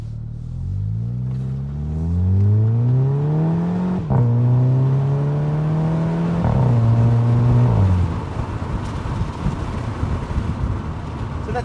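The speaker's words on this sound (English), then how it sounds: "Let's turn around and uh, now drive it with a little bit more urgency." A VW Eos 2.0 TSI exhaust rises and falls as the car is driven harder, with rising engine pitch through several gears, shift breaks and a steady rumbling drone, loud and close.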